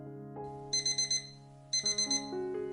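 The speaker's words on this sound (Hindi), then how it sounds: "अलार्म बंद कर दो यार, या इस घड़ी को ही बाहर फेंक दो।" Alarm clock ringing in two bursts of rapid, high electronic beeps over a sustained musical tone bed, a waking-up sound effect in a romance fiction podcast.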